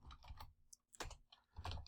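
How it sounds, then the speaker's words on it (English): Keystrokes on a computer keyboard, a few quick taps in short bursts with pauses between them, close and fairly quiet with no voice. "Let's go ahead and type that."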